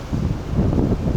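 Wind buffets a microphone outdoors beside an abandoned rice mill, a loud, low rumbling roar that swells and dips across a short burst.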